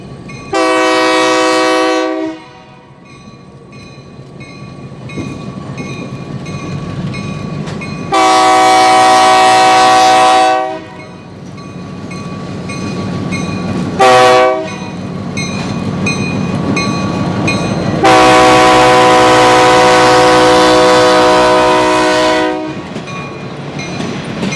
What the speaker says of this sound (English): The locomotive is one of only two RS 1325s ever built.